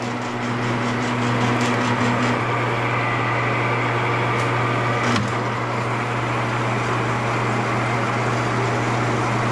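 A wire stripping machine works through thick electrical cable with a continuous loud mechanical hum and grinding drone, a few faint clicks over the top, running steadily throughout.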